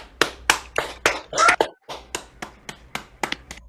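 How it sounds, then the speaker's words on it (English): Scattered hand claps from a small group at an ideathon demo day ring out in an uneven patter, fairly close, with brief cheering sounds mixed in. "Let's give everybody a round of applause."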